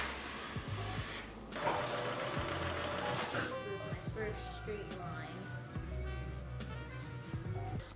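A sewing machine runs on fabric in short, whirring bursts with pauses between, fairly quiet and close, as a beginner makes a first sewing project; a voice speaks at times over it.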